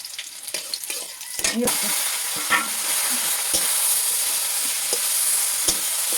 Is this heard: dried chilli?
yes